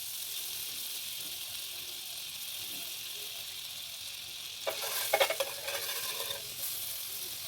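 A single cube of butter sizzles and melts in a pan for a white butter gravy, a faint low hiss at first that swells into a crackling sizzle midway, with a few sharp pops, then settles.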